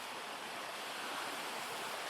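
Water rushes over the Pršjak waterfalls in a young beech forest, a steady broadband hiss that stays even and fairly faint, with no voices.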